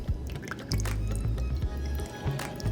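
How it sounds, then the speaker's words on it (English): Red wine vinegar poured over honey to make a sticky sauce, heard as soft close-up dribbling and wet squishing with small drips, fairly quiet throughout. "And to dissolve that honey into a nice sticky sauce, we're going to use some red wine vinegar."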